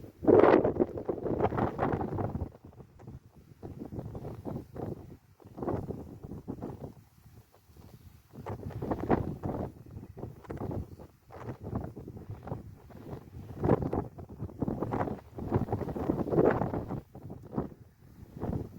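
Gusty wind buffets and roars around the microphone in uneven surges, steady throughout with no voices.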